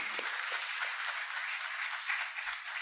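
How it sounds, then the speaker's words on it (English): Audience applause at a Teachers' Day programme honouring school principals, a steady, dense wash of many hands clapping, sustained evenly throughout at moderate distance. "a big, huge round of applause for all the principals"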